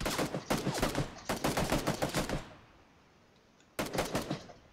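Bursts of rapid automatic gunfire in a PlayerUnknown's Battlegrounds match, loud and close: two long volleys, a short pause of near silence, then another burst.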